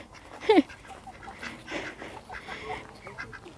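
Ducks quack in a short burst near the start, followed by softer scattered bird and animal noises nearby.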